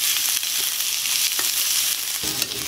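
Finely chopped onions, two medium ones, frying in a pan for momo filling, giving a steady continuous sizzle with faint stirring scrapes and no voices.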